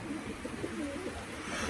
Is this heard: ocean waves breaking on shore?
no